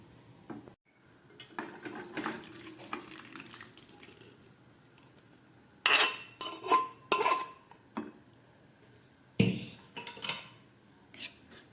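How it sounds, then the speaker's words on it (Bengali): Cooked ghugni, a soaked pea curry, is poured out of a pressure cooker with scattered metallic clinks and scrapes of pot and spoon, quiet gaps between them and a few sharper bursts of clatter near the end. "এই যে ঘুগনিটা রেডি হয়ে গেছে, চলুন ঢেলে দেখাচ্ছি।"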